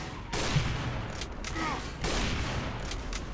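Rapid gunshots ring out in Team Fortress 2, a dense burst of firing that carries on steadily across the moment, loud and close amid game noise.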